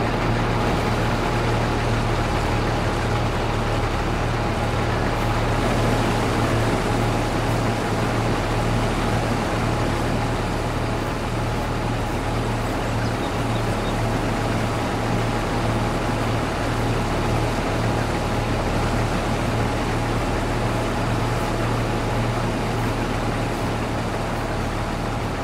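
A harvester works through a canola crop with a loud, steady drone and constant low engine hum, unbroken and close, without any talking.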